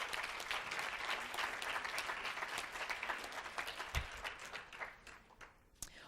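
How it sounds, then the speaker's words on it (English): A conference audience gives the speakers a round of applause, a steady busy clatter of many hands at a moderate distance that gradually thins toward the end, with a few sharp claps standing out. "Let's give our speakers a round of applause."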